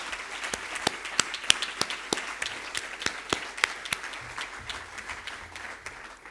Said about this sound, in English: let us give them a big round of applause for doing this today